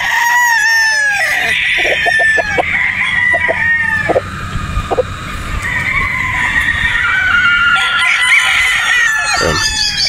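A Boston Roundhead straight-comb rooster crows loudly and close, several long harsh calls mixed with clucking, with other fowl calling in the background throughout.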